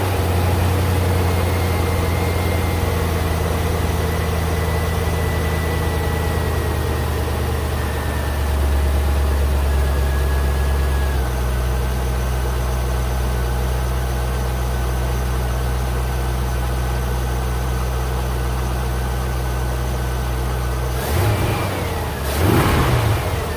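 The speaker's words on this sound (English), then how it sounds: "Here's a cold start before the air intake installation," A Chevrolet C5 Corvette with its stock airbox starts cold and settles into a loud, steady high idle that gradually drops lower, then finishes with a couple of sharp revs near the end.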